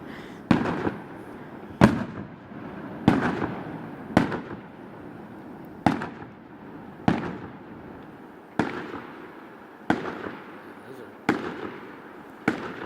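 Fireworks bursting at a summer fair, about ten sharp booms at a fairly even pace, each trailing off into a crackling decay, with a continuous crowd murmur underneath.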